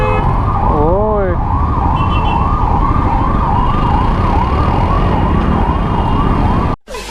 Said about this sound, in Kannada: ಇವ್ರೇನು ಆಂಬುಲೆನ್ಸ್ಗೂ ಜಾಗ ಬಿಡ್ತಿಲ್ಲ ಇವರು